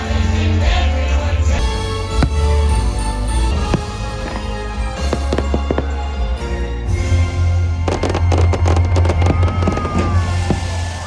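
A Disney park fireworks show in the United States, with Christmas songs playing throughout: sharp booms and crackling bursts go off over loud continuous holiday music, dense and steady for the whole stretch.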